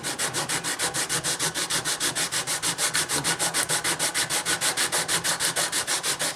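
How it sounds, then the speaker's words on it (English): A metal surface plate in a machine shop being leveled by hand scraping. Rapid, evenly spaced rasping strokes repeat steadily at about five per second, loud and close, with no voices. "Surface plates in machine shops at one time were finally leveled with scraping. This is how it's done."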